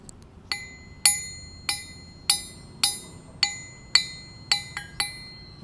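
Repeated hammer blows on a ductile steel anvil ring out bright and bell-like, about ten strikes with lingering resonance, the last few coming quicker together.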